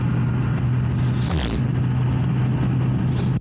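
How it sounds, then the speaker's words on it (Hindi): Steady motorbike ride at about 50-60 km/h, picked up by a Hollyland Lark M1 wireless mic with noise cancellation off: constant loud wind roar over a low engine drone, with a brief bump partway through. "सो भाई 50-60 की स्पीड में ऐसी आवाज आ रही है।"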